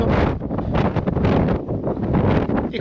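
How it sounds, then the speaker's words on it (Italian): Strong wind gusting on the Wild Atlantic Way coast of Ireland facing the ocean, a loud continuous roar of buffeting wind noise against the microphone with surging gusts throughout. "Adesso il vento è particolarmente alto"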